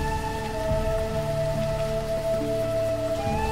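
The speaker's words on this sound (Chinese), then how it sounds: "下雨可以增加水的产量。" Steady game rain patters continuously in the video game Forebearers, layered under sustained tonal background music with no talking.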